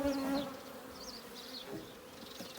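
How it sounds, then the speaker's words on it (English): A honey bee buzzes around an open beehive during a hive inspection, a near, wavering hum that drifts in pitch over a couple of seconds, with no speech. "There's one buzzing round at the moment."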